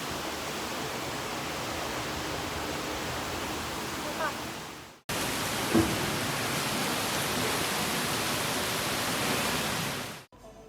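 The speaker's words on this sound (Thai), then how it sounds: "แล้วก็ฝนตกหนักมาก" Steady, dense hiss of heavy rain pouring down, broken by a brief cut near the middle before resuming just as loud, with no voices.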